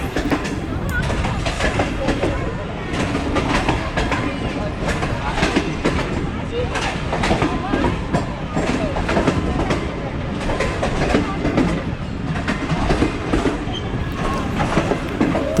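Allama Iqbal Express on the Sialkot to Lahore run, pulling into Shahdara Bagh Junction: a loud, steady rumble and rattle of carriages rolls on throughout, with some talk mixed in.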